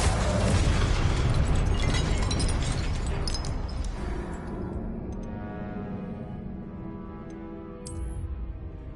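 A Confringo spell explosion in the Hogwarts Legacy video game: a loud, broad blast at the start that rumbles and slowly fades, with a small crackle near the end and no talk.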